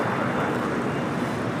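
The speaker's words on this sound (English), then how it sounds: "Next takeoff is JSX, flight 323, heading to Vegas in an ERJ 135 LR." A JSX Embraer ERJ 135 LR jet takes off at LAX, a steady, loud, broadband engine roar with a wind-like rush, close and continuous throughout, with no voices.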